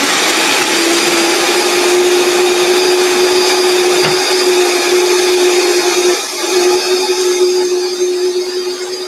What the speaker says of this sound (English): I'm using a Vitamix.